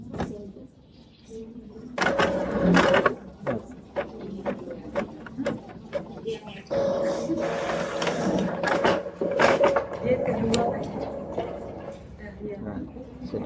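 A printer runs a job of book barcode labels for a library, giving a sustained mechanical whir with rhythmic clicks and feed clatters over about thirteen seconds, close and moderately loud, with occasional voices in the background.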